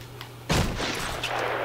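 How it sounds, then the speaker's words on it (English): A single loud sniper shot booms in the Batman Arkham Asylum video game, a sudden blast that fades into a sustained rumbling wash. "Currently getting shot at the moment"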